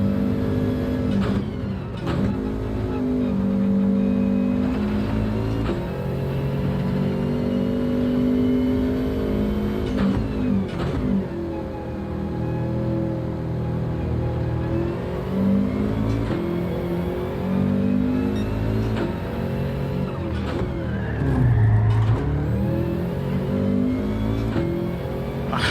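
Gr.4 race cars roar through Gran Turismo 7, engines revving and shifting continuously with rising and falling pitch, several cars audible at once, loud and sustained without talk.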